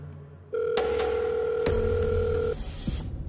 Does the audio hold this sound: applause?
no